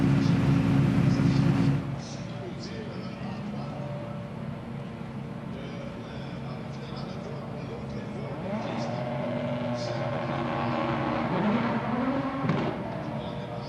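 A rallycross supercar launches for a practice start at Trois-Rivières: a loud burst of engine roar opens, then a steady, rising engine drone carries on under continuous commentary.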